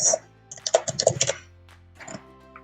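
Quick bursts of clicking keystrokes on a computer keyboard come in a short, close flurry, with a pause and a couple of lighter taps.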